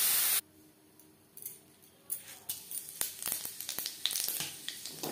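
Potato and cauliflower pieces frying lightly in a pan, a loud burst of hissing that cuts out, then crackling sizzle with spatula scrapes and taps building back up, close by.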